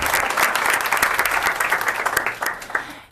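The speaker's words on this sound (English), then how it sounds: "let's give a round of applause for that," Audience applause at a school board of education meeting honoring a student relay champion, a loud, dense burst of clapping that holds strong and then tapers off and fades near the end.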